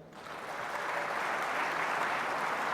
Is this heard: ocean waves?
no